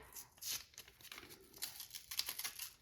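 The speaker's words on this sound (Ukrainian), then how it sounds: "Сьогодні ми розпакуємо такий красивий пакетик." A paper surprise packet being unwrapped, faint crinkling and tearing of paper in short bursts with soft rustles between, close by and quiet.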